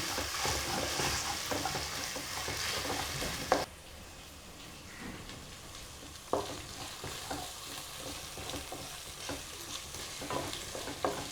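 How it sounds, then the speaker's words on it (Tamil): Ginger garlic paste sautéed in a pan for a broiler chicken gravy: a soft, steady sizzle with occasional sharper scrapes and clinks of a spoon stirring, close and fairly quiet. "இஞ்சி பூண்டு பேஸ்ட்டு வாசனை தீர மட்டும் நல்லா வதக்கணும்"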